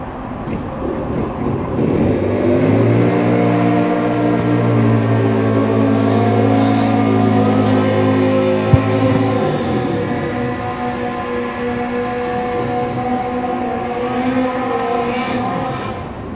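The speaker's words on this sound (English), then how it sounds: "We have motorcycles running on the racetrack." Engines of 2012 Harley-Davidson drag racing motorcycles on a racetrack build into a loud, sustained droning roar with rising and falling harmonic pitch, steady and close with wind-like noise underneath.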